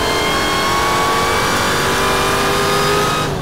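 Thousand-horsepower Hennessey Hellcat Challenger under full-throttle acceleration, a loud, close, sustained engine roar with rising whine filling the whole stretch and cutting off abruptly at the end.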